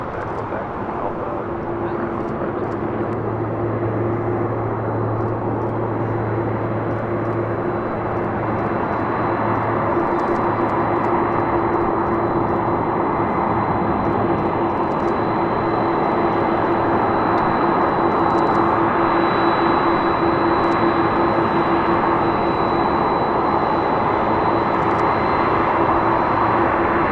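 A Boeing 747 airliner at LAX airport produces a long, loud, sustained jet-engine roar with a steady low hum running beneath it throughout.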